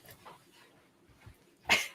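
A dog whimpers softly in a quiet room, with faint low whines and then one louder, sharp yelp near the end, close by and with no talking.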